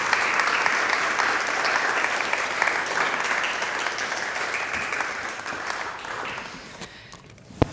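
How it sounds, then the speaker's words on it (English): An audience applauds as two panelists walk up onto the stage at a human rights defenders event, dense sustained clapping that continues evenly for about seven seconds before fading at the end. "you can give them an applause while they walk up"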